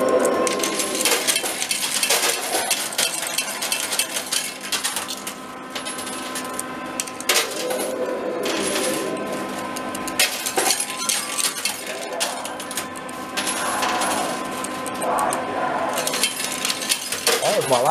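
Coins drop and clatter continuously into a coin pusher arcade machine, metallic clinks and jingles piling up loudly over an arcade din, with a voice talking intermittently underneath.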